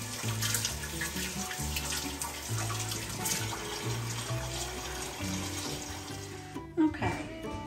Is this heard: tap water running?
yes